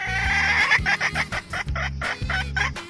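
A chicken in a 3D animal slide video game clucks in a rapid, repeated run of squawks over a looping, bouncy music bed, loud and close.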